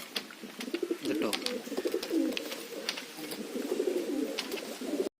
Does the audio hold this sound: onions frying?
no